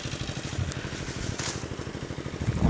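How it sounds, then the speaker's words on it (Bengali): Farm machinery runs nearby to clean out a pond, producing a steady low pulsing engine thrum that stays fairly loud and unbroken and swells slightly at the end. "চাষিদের যন্ত্রপাতি চলছে জল পরিষ্কার করার জন্য, পুকুর পরিষ্কার করছে।"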